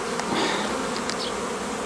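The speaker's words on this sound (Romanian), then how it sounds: "Iată albine pe 4-5 rame." Honey bees swarm around a hive during a dandelion nectar flow, a dense, continuous buzzing close by with individual bees briefly whining past.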